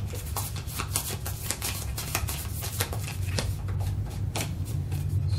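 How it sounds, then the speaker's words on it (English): A discard pile of cards for a Toy Story deck-building game is shuffled by hand, producing a rapid, continuous riffling and rustling close to the microphone, alone without talk. "we have to shuffle our discard pile to draw."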